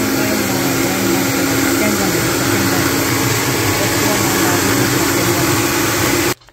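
A grinder churns batter for sweet appam with a loud, steady whirring drone that runs unbroken for several seconds, then abruptly cuts off.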